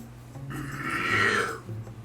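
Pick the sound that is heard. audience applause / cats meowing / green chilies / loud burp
loud burp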